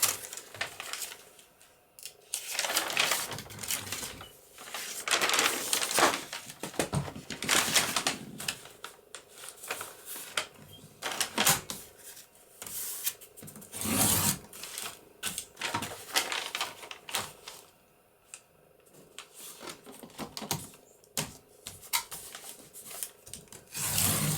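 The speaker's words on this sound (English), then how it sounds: "I'm going to cut some of this at 3¼ inches wide." Paper being cut from a book with irregular scraping and snipping strokes and rustles, fairly quiet and close, continuing in uneven bursts with no voices.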